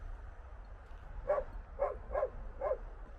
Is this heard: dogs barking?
yes